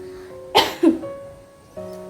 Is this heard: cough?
yes